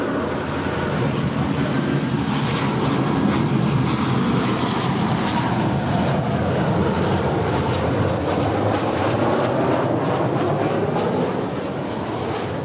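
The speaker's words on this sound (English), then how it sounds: "That is Delta 2901 coming in from Orlando, Florida. It's a 737-900ER." A Delta Boeing 737-900ER jet lands at LAX, a loud, steady broadband engine roar that holds throughout with a faint whining tone running through it.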